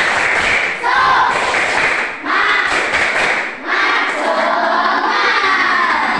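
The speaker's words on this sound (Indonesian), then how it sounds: "coba dong tepuk semangat dulu, tepuk semangat" A classroom of schoolchildren shout a rhythmic spirit-clap chant together, loud and close, in three surging bursts separated by brief dips.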